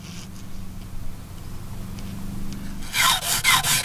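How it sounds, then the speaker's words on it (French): A hand file cuts a groove into a plastic tulip stem while fitting a StrippaClip kit, giving a steady low rasping scrape that turns into brighter, louder strokes near the end. "Coupez avec la lime votre sillon."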